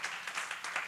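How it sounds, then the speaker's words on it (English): Brief burst of audience applause at a public physics lecture, steady overlapping claps, moderately loud and close, lasting under a second. "Let's have a bit of applause."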